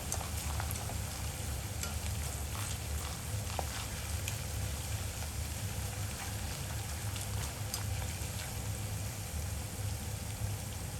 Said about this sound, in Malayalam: നന്നായിട്ട് ഫ്രൈ ആയി കഴിയുമ്പോഴല്ലോ ഈ ബബിൾസ് ഒക്കെ എല്ലാം കൂടെ താഴും കേട്ടോ.